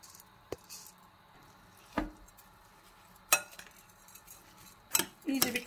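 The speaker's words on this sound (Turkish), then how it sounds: "İçine 1 su bardağı pirincim vardı. Onu da ilave ediyorum. Ve diğer malzemelerimi de içine ilave ederek karışımı yapmaya devam edeceğim." A spoon scrapes and clinks in a bowl while rice and other stuffing ingredients for minced-meat onion dolma are mixed, giving sparse, close metallic taps and knocks with quiet stirring between them.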